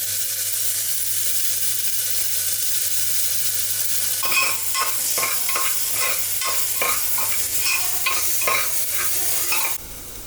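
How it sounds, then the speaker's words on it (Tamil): Onions fry for a vegetable gravy in a hot pan, with a loud continuous sizzle throughout and a run of quick spatula scrapes and clatters starting partway in, close up with no talking. "வெங்காயம் நல்லா பிங்காக மாறுற வரைக்கும் ஃப்ரை பண்ணணும்"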